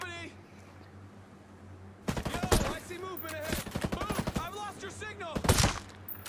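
Paladin 9 rifle shots in Ghost Recon Breakpoint, several sharp, loud reports in quick succession with echoing tails, a burst near the start and another near the end, with someone talking over them.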